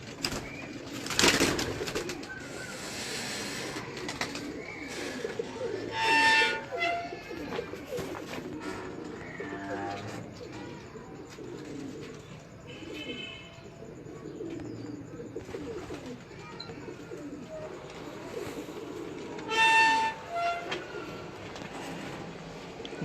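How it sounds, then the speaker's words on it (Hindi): Teddy pigeons in a breeder's loft coo softly and repeatedly, the low throaty calls rising in a few bursts over a continuous background of rustling and faint ambient noise. "टैडी कबूतर है अभी।"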